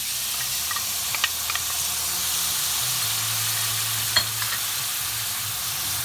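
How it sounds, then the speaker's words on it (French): Crushed tomatoes go into a hot pan with shrimp and are stirred, giving a steady loud sizzle and hiss with a few scraping clicks from the utensil, close up and with no talking. "Et là, je vais ajouter les tomates concassées."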